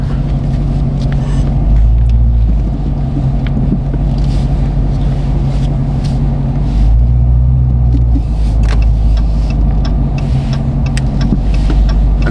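A Dodge Hellcat's engine rumbles loud and close as the throttle is pressed, its deep low drone swelling and shifting pitch a couple of times across the stretch, steady and continuous with no talk over it.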